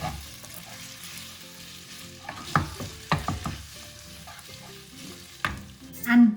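Spicy garlic tomato pasta sizzles in a hot pan as parsley is stirred through, with soft scraping and a few clattering utensil knocks over a steady fry, with no talking.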